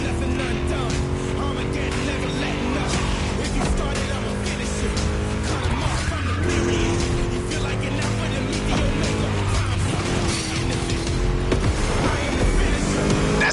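Car engine roaring steadily with tire skids in The Crew Motorfest racing game, dense and continuous, with game music layered underneath.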